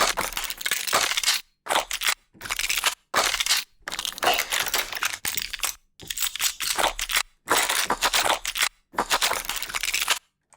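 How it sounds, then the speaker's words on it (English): A string of short, crunchy mechanical clatters and rattles of gun handling, each burst separated by silence, loud and up close. "Gun handling."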